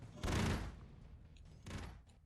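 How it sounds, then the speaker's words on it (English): Charged-up gunfire from the video game Broforce on PS4, two loud rumbling bursts of shooting a little over a second apart, each trailing off. "if you hold down shoot, you kind of charge it up."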